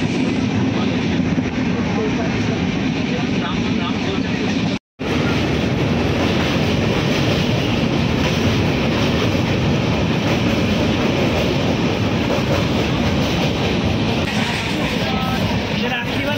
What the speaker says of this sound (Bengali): আমাদের ট্রেন ফাইনালি ছেড়ে দিয়েছে।